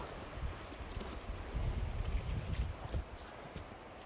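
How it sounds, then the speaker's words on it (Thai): Wind gusts rush and buffet steadily through a forest, with a rough, blustery roar rising and falling throughout; no voices. "ได้ยินไหมคะเสียงลม"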